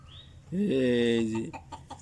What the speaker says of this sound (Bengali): এখানে এসে মুরগি পানি খায়